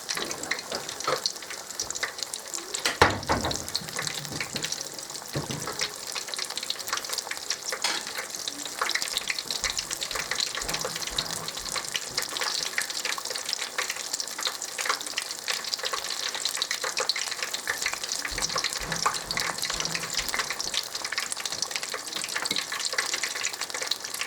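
Beer-batter onion rings fry steadily in hot oil, a dense continuous crackle and sizzle running throughout with a few sharper pops and some watery clatter near the start.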